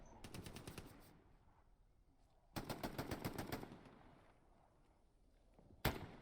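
Rapid bursts of automatic gunfire from an 18-vs-18 World War II-style shooter match on the Rue De La Gare map: a dense burst at the start, a longer loud volley near the middle and one sharp shot at the end.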